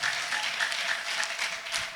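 Church congregation applauding during a service, bursts of clapping in an uneven rhythm at moderate level, with a faint sustained tone underneath.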